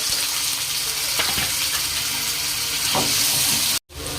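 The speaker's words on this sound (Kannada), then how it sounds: "ಈಗ ಉಳ್ಳಾಗಡ್ಡಿ ಚಲೋ ಫ್ರೈ ಆಗವ" Onions fry in a pan for egg bhurji, giving a dense, continuous hiss and crackle with a few faint scrapes. It sounds close and steady, and no one speaks.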